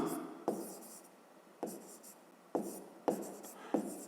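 A pen or chalk writes out a math formula in a series of short scratchy strokes, each starting with a sharp tap, repeated about five times at close range.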